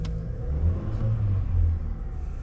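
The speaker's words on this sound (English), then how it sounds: "Car starts." A 2024 Chevy Blazer engine settling into a low, steady idle right after starting, with a deep rumble that stays even throughout, close by and alone.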